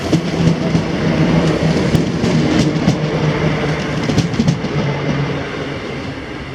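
A passenger train passes through Paisley Gilmour Street station with a loud, steady rumble and rhythmic clickety-clack of wheels over rail joints, heard close with no talking.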